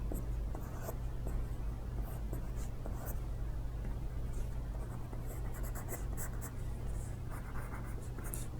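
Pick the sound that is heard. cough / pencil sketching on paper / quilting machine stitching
pencil sketching on paper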